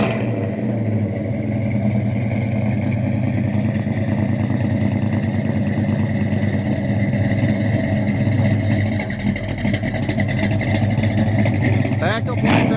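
A 1970 Chevrolet Chevelle SS 396 V8 idles and revs with a deep, thumping exhaust rumble, steady and loud throughout, with a few sharper rises in pitch near the end.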